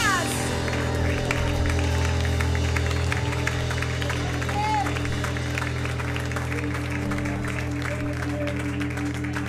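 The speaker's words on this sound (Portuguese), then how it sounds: "Será que você pode aplaudir o Senhor nessa noite?" Worshippers at a Portuguese-language church service applaud, a dense continuous clatter of clapping and crowd noise over sustained music and a voice, loud and unbroken throughout.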